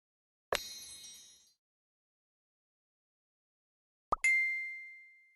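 Two bright chiming text-message notification dings in the mobile game Piper's Pet Cafe, sounding several seconds apart, each ringing out clearly and fading over about a second against silence.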